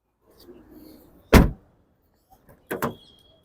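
Driver-side door of a 2018 Toyota Innova Crysta 2.4G being handled, with a sharp close thunk followed later by a quicker double knock, quiet shuffling between.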